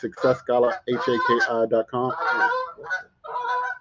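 Geese honking outdoors in nature, several short nasal calls in quick succession, mixed with someone talking over them.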